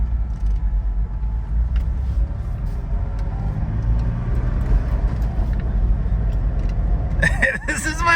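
A cheap used Porsche Boxster, earlier suspected of running on two cylinders, drives along with a steady low engine rumble and road noise, while people talk over it and a sharp hiss rises near the end.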